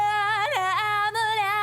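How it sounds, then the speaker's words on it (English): A female vocal line sung in a punk-rock mix with room reverb applied, holding steady sustained notes with a few pitch slides, loud and continuous throughout. "So the first effect we have is this room reverb."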